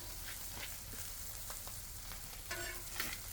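Taco shells fry in oil on a Blackstone griddle with a dense, continuous crackling sizzle, close but fairly quiet, broken by a few sharper pops and scrapes near the end.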